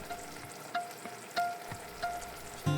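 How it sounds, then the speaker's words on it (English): Spoon stirring a thick mac and cheese sauce in a pan, with soft rhythmic scrapes and bubbling about every half second, close and fairly quiet, with no talk. "Stir some more so it doesn't burn."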